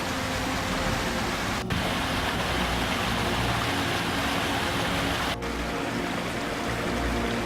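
Waterfalls and a stream rushing through a wadi among turquoise pools, a dense, continuous broadband hiss of falling water, loud and close, with two brief dips in the roar.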